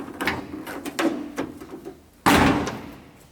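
Toyota AE86 car door hinges creak and click through several short movements as the door swings, then the door shuts with a loud, sharp slam that rings out briefly.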